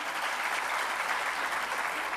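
Audience applause at a Gujarati motivational speech, a dense, steady wash of clapping from a large crowd that carries on evenly from start to end with no talking over it.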